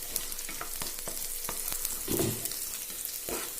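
Ingredients for parippu (lentil) curry frying in a pan, a steady close sizzle with brief stirring scrapes and spoon taps throughout, no talking.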